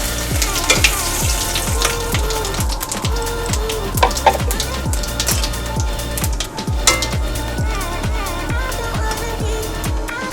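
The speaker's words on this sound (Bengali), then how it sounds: "ওই তেলের মধ্যেই আমি এবার এই ফোড়নটা দিয়ে দেব। 2টো শুকনো লঙ্কা আর সাদা জিরে, গোটা জিরে আর 2টো তেজপাতা।" Two dry red chillies, whole cumin and two bay leaves sizzle steadily in hot oil in a pan, with a constant frying hiss and occasional light clinks of a utensil. No one speaks.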